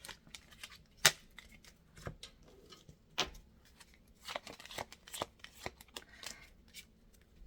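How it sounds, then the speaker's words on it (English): Tarot cards are split and shuffled by hand, giving close, quiet riffles and sharp flicks that come in irregular bursts, with no speech over them. "I mix these darn cards after splitting them up."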